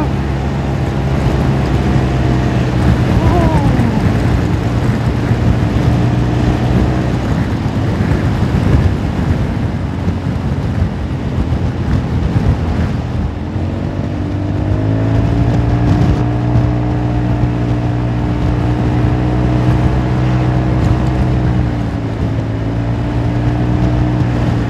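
Motorbike engine revving while riding on a road, a steady loud drone with rising pitch sweeps as the throttle opens, mixed with heavy wind rush throughout.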